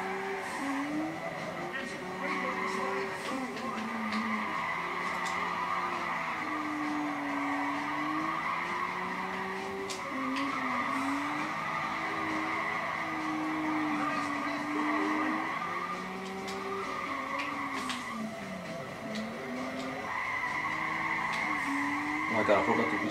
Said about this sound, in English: Come on, car, drift.